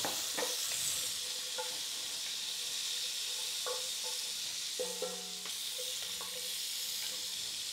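Shallots fry in oil in a Dutch oven, giving a steady sizzle with scattered pops and light scraping clinks throughout, close and continuous with no talk.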